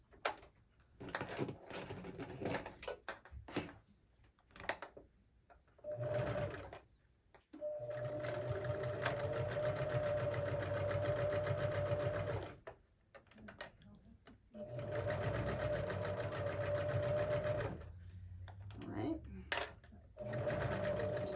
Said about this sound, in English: So now we're ready to sew it. So again, this is where I do the 1/4 inch